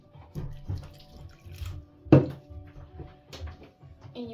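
A small splash of water is poured into minced meat filling with finely chopped onion and garlic for chebureki, a short close trickle that peaks briefly amid quiet kitchen handling sounds.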